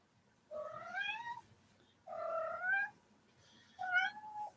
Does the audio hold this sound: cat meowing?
yes